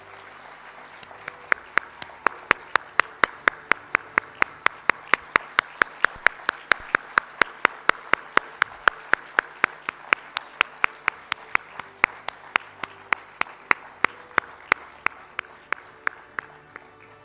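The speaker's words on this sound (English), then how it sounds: "Let the applause keep coming." Steady applause from an audience at a hockey junior world cup trophy unveiling ceremony, a dense continuous wash of clapping with a few loud, evenly spaced claps ringing out near the front throughout.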